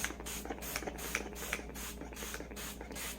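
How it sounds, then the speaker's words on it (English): A spray bottle pumps fabric stiffener onto crochet pieces in a steady series of short hissing bursts, about two per second, close and moderately loud. "now I'm going to simply spray out of the spray bottle"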